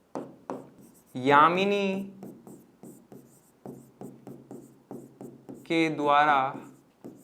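A teacher writes out a two-variable linear equation for a math lesson, making a series of short, close scratching strokes in quick bursts between spoken explanation.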